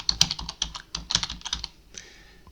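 Quick, uneven keystrokes clatter on a computer keyboard as an email address is typed, a close and crisp burst of clicks that stops abruptly, leaving a short quiet pause.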